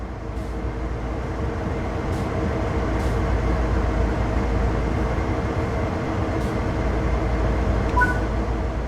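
A diesel locomotive in the Train Sim World 3 video game gives off a steady, loud, low mechanical rumble that holds evenly throughout, with a few faint clicks on top and no talking.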